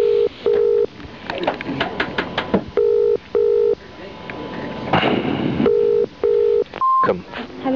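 A telephone call to Virgin, with repeated pairs of steady dialing and ringing tones broken by bursts of higher keypad beeps and a rough rustling section, loud and close; a brief single tone comes near the end.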